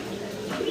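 Silver Lowry pigeons coo softly and steadily for under a second, a low murmuring coo close by in a pigeon house, with no talk over it.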